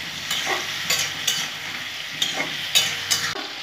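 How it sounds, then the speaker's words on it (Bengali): Small chopped tomatoes frying in a pan with a constant close sizzle and periodic scraping strokes of a spatula stirring them, fairly loud with no voices. "টমেটোগুলো দিয়ে দিলাম। খুব ভালো করে আমি ভেজে নেব।"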